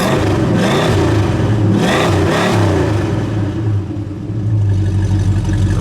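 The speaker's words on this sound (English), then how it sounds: "Go ahead, give us a rev, Chris." A 1969 Dodge Charger R/T muscle car with a 440 V8 revs hard in a few loud, close throttle blips, rising and falling, then settles into a deep, steady rumble.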